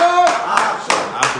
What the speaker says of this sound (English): Oh yeah, clap.